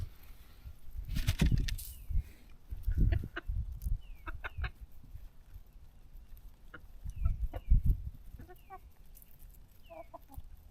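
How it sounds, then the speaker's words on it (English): Chickens clucking on and off over a few seconds, with sharper squawks mixed in and some rustling and thumps up close. "Keep these chickens happy, huh? Happy chickens lay eggs"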